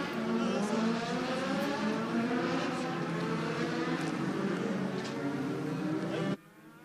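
Legend race cars roll onto the asphalt track at Dominion Raceway for a heat race, a steady, loud engine roar from the pack filling the clip before cutting off abruptly near the end.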